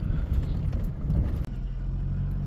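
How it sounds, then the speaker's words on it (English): Car rolling slowly over a rough detour road full of pebbles and stones, a close, continuous low rumble with crunching and rattling from the tyres and a brief dip midway. "This road is full of pebbles and stones"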